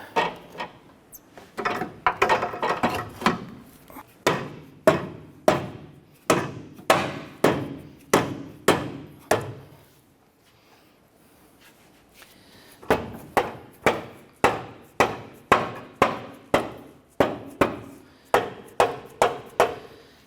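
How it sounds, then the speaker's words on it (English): Rubber mallet blows driving a front lower control arm and its bushing into place on a 2008-2012 Honda Accord: a run of sharp, regular thuds, then a pause of a few seconds, then another steady run of strikes. "I'm just working our control up, back, and into place using our rubber mallet here"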